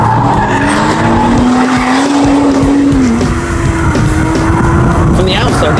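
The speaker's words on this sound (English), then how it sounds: "it's a high revving engine, not a ton of horsepower, about 365, 275 foot-pounds of torque, I think it is, supercharged" Supercharged Lotus Evora engine, high-revving with about 365 horsepower, wound up hard with a steady rising engine tone and tire noise, loud and continuous throughout.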